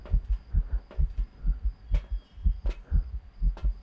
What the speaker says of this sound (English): The heartbeat in my ears right there.